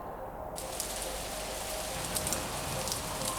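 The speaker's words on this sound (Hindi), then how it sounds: "उनके रास्ते में बिजली गिरी और बारिश भी हुई" Steady rain falls continuously, a dense hiss of drops on a surface with no pauses.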